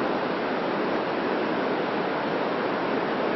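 Swollen waterfall in Burgos, fed by snowmelt, roaring as a steady, dense wash of water that stays constant and close throughout, with no other sounds breaking through.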